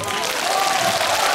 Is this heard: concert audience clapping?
yes